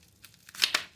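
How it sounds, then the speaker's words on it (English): A blade cutting open a package holding WWI-era ammunition collectibles, a quick tearing and crinkling of wrapping in two short bursts, close and soft with no talking. "I'm just going to cut this open"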